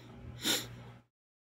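One close sniffle or snort, a short breathy burst of air through the nose lasting about half a second before silence.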